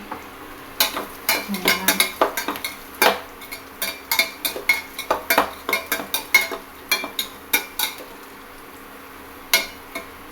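Onion and urad dal stir-fry in oil for curd rice, heard as a soft background sizzle under frequent sharp clicks and taps of a spoon against the pan in an uneven rhythm, with a brief voice early on.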